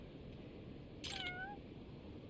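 A cat meows once in the video game Judgment, a short, clear, rising then falling call heard alone over a steady low background hum.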